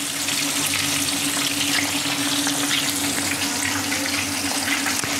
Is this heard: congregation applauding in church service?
no